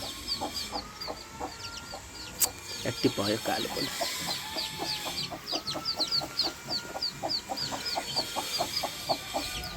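Chickens cluck repeatedly in a steady, busy rhythm while chicks peep in high, rapid chirps close by. A person talks briefly over the birds.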